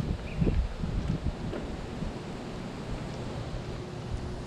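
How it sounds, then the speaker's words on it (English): Wind gusts outdoors at an abandoned bus site and buffets the microphone with low rumbling noise. It is strongest at the start, then settles into a steady, softer rush. "Let me get out of the wind"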